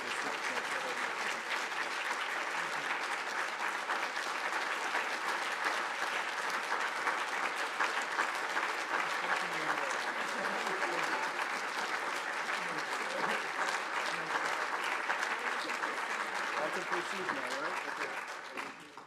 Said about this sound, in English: So please really give him a big round of applause.